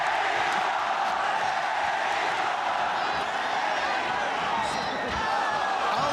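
Fight crowd at an MMA event roaring and cheering continuously, a dense, loud wash of voices with whoops that swells slightly near the end as a takedown is stopped.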